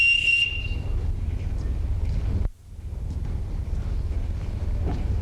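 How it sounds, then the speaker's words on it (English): A sharp, shrill whistle blast is blown as a summoning signal in a household, sounding loud and brief at the start of a stage scene before giving way to room murmur and background noise. "Everyone in this house answers to a whistle."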